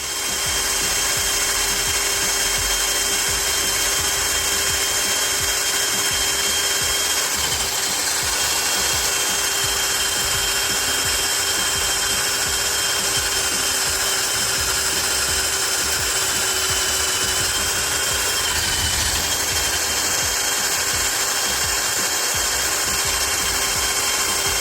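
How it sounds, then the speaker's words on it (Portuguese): A DeWalt DCD130 drill boring through a steel plate with a high-speed steel bit, a loud continuous high whine held at constant speed for the whole stretch, close by and alone without any talk. "A rotação é precisa para esse corte aí, rotação ideal para broca de aço rápido e também para madeira."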